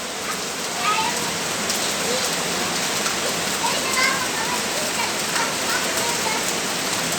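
Steady rain falls outdoors, a dense, even hiss of drops splattering on surfaces throughout, with faint voices talking beneath it.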